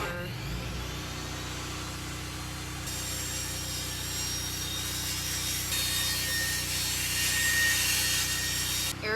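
Wood being sawn into studs for a school bus conversion's window frame, a steady continuous cut running the whole time and growing louder toward the end, with faint voices in the background.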